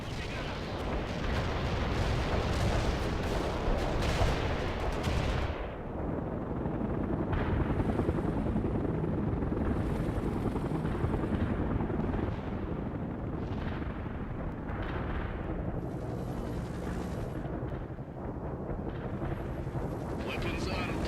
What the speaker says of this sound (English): Heavy attack helicopter engaged the enemy.